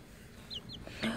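A couple of quick, thin chick peeps, followed by a brief rustle, soft and close in a quiet space.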